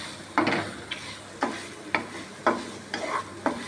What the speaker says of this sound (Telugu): ఇప్పుడు కొబ్బరి తురుము కూడా వేసేసుకుందాం.